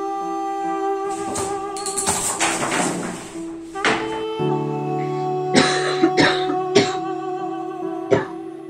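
A woman coughs heavily in several harsh bursts, one long rough fit followed by shorter separate coughs, close and fairly loud in a quiet room.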